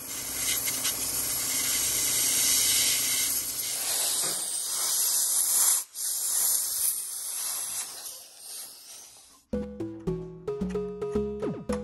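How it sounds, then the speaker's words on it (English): Low-pressure air from an air compressor is pushed through a small tube while cleaning an overheating Epson 2030 projector. It makes a steady, close breathy hiss for about nine seconds that thins out, then cuts off as music begins. "Got my little tube connected to my air compressor. I'm going to keep the air pressure low."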